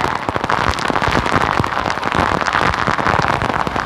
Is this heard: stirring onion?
no